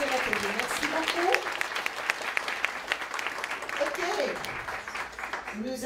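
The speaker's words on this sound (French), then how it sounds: "Je vais vous demander de les applaudir chaleureusement" Audience members at a public consultation meeting applaud presenters with steady, moderately loud clapping, while voices talk over it at the start and again near the end.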